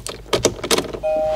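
Car keys jangle briefly in a salvage-repair car that feels freshly assembled, a short metallic rattle followed by a steady electronic tone as the power comes up.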